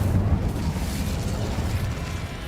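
Incendio fire spell cast in the wizarding game Hogwarts Legacy, a dense, roaring whoosh of flame that starts strong and stays loud and steady, with no voice over it.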